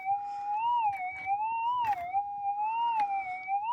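A Minelab GPX 6000 metal detector gives a continuous target signal tone, a steady electronic whine that wavers gently in pitch, with faint rustling and scraping from ground sweeps underneath, near and moderately loud.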